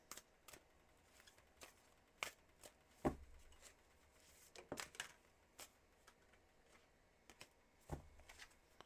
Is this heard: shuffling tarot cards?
yes